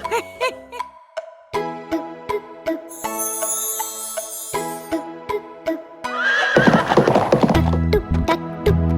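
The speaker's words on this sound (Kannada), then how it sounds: "ಓಡುವ ಕುದುರೆ, ಗೊರಸನ್ನು ನೆಲಕ್ಕೆ ತಟ್ಟುತ್ತ ಕುಣಿದು ಮೋಜಿನ ಸವಾರಿ ನೀಡುವ ಕುದುರೆ" A horse whinnies and neighs loudly and close, with rhythmic hoof clip-clops on the ground running through the sequence, a shrill burst mid-clip and a louder scuffling rush toward the end.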